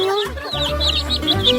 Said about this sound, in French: Oh, regardez ces poussins.